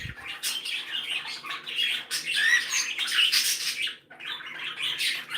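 Pet birds in an indoor bird room chirp and squawk constantly, a dense overlapping chatter of bright calls close by and fairly quiet overall.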